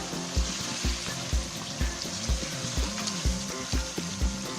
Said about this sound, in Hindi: पाँच मिनट हो चुके हैं इसको पकते हुए और मसाले भी अच्छे तरीके से भुन चुके हैं